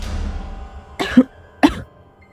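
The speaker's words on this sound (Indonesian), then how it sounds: "Sang ibu sesekali batuk." A woman gives two short, sharp coughs about half a second apart, close and clear against a quiet background.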